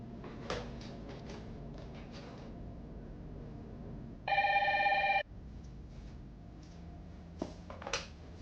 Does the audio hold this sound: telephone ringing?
yes